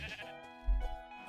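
A Minecraft sheep bleats once, a wavering nasal call from close by, with a low thump midway through and nobody speaking.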